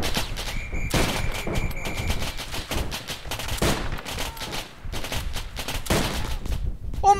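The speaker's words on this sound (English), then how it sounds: "You have frags, machine gun shooting us." Machine gun fire rattles in a World War One battle in the video game Arma 3, loud bursts of rapid shots breaking off and starting again in close succession, with a brief electronic tone partway through.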